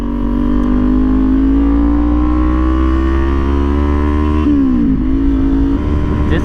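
A motorcycle cruises along at steady speed, its engine drone loud and close with a rising pitch as it accelerates, then a quick dip and recovery at a gear shift near the end.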